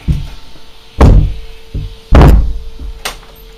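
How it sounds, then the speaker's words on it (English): A door shuts indoors with a few solid thumps and knocks, two heavier impacts and some lighter taps, close and loud in an otherwise quiet room. "let me close the door the whole way"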